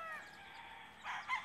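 A rooster gives a short, fairly faint crow with a brief squawk at the end, heard alone without talking.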